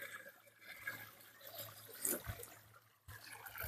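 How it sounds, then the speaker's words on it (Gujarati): Jivamrut liquid fertilizer mixed with irrigation water flows through a pipe on a farm, a faint, steady trickle and gurgle with a few soft splashes. "આ પાણી હારે જાય છે, આ જીવામૃત આવે છે"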